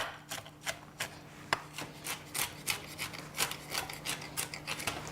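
Walnuts are chopped into small pieces by hand for homemade waffles, giving quick, rhythmic rasping scrapes and knocks of a blade on a board, close and fairly steady throughout.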